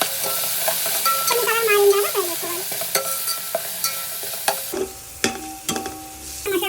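Masala paste frying with onions in a pan for coconut milk biryani sizzles steadily up close, punctuated by repeated sharp scrapes and knocks of a stirring spoon, with no talking.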